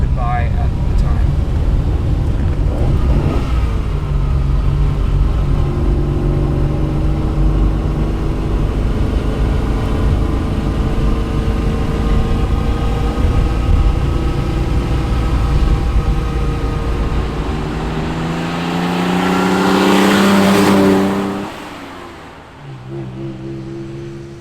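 Lancia Flaminia, a large luxury Italian car, driving with a steady low engine drone and road noise under a voiceover, swelling near the end as the car passes, then dropping away.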